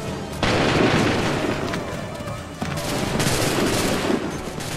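Musket volleys crack in dense, overlapping bursts during a Revolutionary War battle at Lexington in the Assassin's Creed 3 video game, loud and sustained with booming rolls of gunfire throughout.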